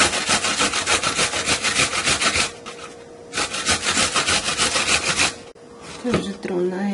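Celery stalks are rubbed against a kitchen grater in quick, steady rasping strokes with brief pauses, close and fairly loud, followed by a short thud and some quieter clatter at the end.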